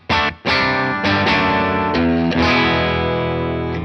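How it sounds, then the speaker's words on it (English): A lightly overdriven electric guitar plays a few loud, distorted chords, the first ones clipped short and the later ones left ringing and sustaining. "roll down the volume control for a lightly overdriven sound"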